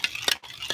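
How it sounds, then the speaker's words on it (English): A utensil stirring food in a pot, giving two or three quick scraping clinks against the metal, close and brief, with no voices. "I'm just going to stir it."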